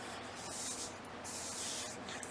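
A spray can hisses out paint in two long bursts with a brief pause between them, close and steady, with no talking.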